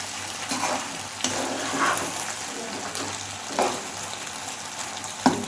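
Chicken macaroni in a creamy white sauce being stirred in a pan, wet sloshing and scraping strokes repeating every second or so over a soft background sizzle.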